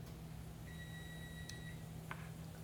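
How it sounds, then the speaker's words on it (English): An oven beeps once it reaches temperature, giving a single long electronic tone, then a short chirp and a brief blip, all faint over a steady background hum. "And our oven has come up to temperature."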